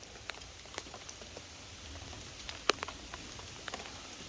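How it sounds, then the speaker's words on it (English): Rain falls outdoors during maintenance of a John Deere Z345M riding mower, a soft, steady patter with scattered sharper drops striking nearby surfaces. "Stop the rain, stop the rain, stop the rain."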